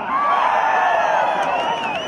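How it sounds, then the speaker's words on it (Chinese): Audience at a Hmong Miao leek flower festival in Hezhang, Guizhou, screaming and cheering together, a dense, sustained wall of high shrill voices and whoops that keeps going loudly for the whole moment. "来点尖叫声"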